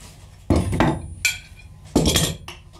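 Big bolts being worked off a large farm machine disc give two bursts of sharp metallic clanks and clinks, close and loud, separated by short pauses, with no voices.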